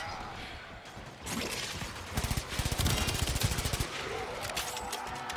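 Rapid bursts of automatic weapon fire in the sci-fi shooter Warframe, loud and close, with crackling rattling volleys in the middle of the stretch over a layer of game ambience and effects.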